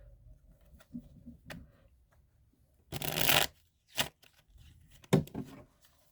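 A deck of tarot cards gets shuffled in a few quick bursts, crisp riffling snaps separated by pauses and light taps, close and fairly quiet.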